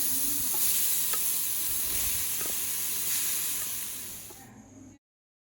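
Grated snake gourd thoran mixture stirred in a hot pan, a loud continuous sizzle and hiss with scraping stirs, cutting off abruptly near the end, no talking.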